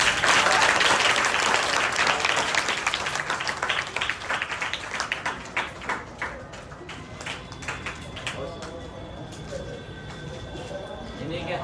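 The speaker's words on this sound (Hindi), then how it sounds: "सैफ सर जोरदार तालियों से" At an Independence Day gathering, an audience claps loudly to welcome Saif Sir to the stage; dense applause thins into scattered claps and then fades, leaving a faint background murmur.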